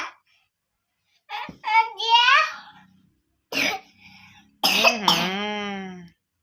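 A young child coughs in several harsh bursts, some with throaty, voiced strain, separated by short pauses, close and fairly loud indoors.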